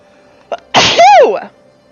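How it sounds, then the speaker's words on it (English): A single loud, close sneeze from a person in a quiet room, a short sharp intake followed by a forceful burst lasting about three quarters of a second. "I'm gonna sneeze."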